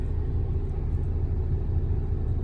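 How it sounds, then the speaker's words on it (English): Steady low rumble inside a car, a constant engine and road drone filling the cabin without pause and with no voices. "We in the car"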